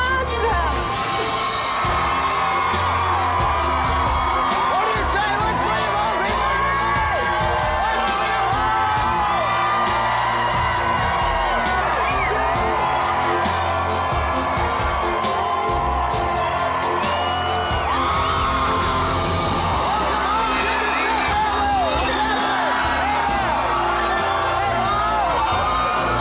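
A large crowd at a home makeover reveal yells, whoops and cheers loudly and continuously, with shouts and scattered bangs layered throughout.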